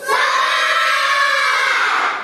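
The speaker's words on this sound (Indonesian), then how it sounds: "Dalam hitungan ketiga teriak semangat." A group of children shouts enthusiastically together in a classroom exercise, one sustained loud collective yell that starts abruptly and holds for about two seconds.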